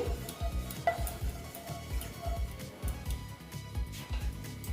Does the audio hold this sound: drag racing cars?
no